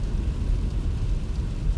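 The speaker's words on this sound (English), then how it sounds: "we're getting into intensifying rainstorm that's transitioning to a thunderstorm" Heavy rain in an intensifying thunderstorm near Flagstaff gives a dense, steady low roar of downpour with no distinct thunderclap and no voices.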